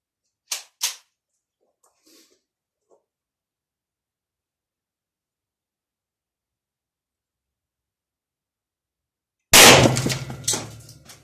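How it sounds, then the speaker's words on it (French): One sharp, loud report from an Ekol Botan blank pistol fitted with a prototype laser mount fires near the end. Faint clicks and handling noises come earlier, separated by a long stretch of quiet. "premier tir avec le guidon"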